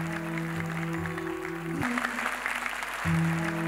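Sustained audience applause fills a hall at the YUCA 2022 award ceremony as an Uttarakhand folk singer is honoured with a Legendary Award, the steady clapping running throughout under a low background hum.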